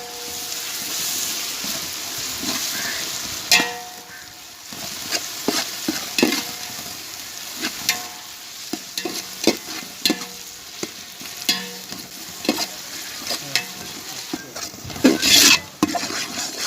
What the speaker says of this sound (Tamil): போட்டதுக்கப்புறம் நல்லா மிக்ஸ் பண்ணிக்கணும்.